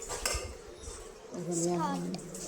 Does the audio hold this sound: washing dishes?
yes